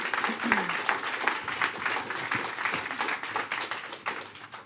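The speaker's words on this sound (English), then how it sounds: "please hold your applause" An audience at a school board trustees meeting breaks into applause, a steady crowd clapping of moderate loudness with a few sharper claps, sustained throughout with faint murmuring beneath.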